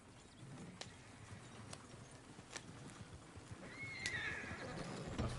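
A horse neighs in a PS4 video game, a clear whinny rising near the end over steady ambient game sound with faint hoof clops and no talk.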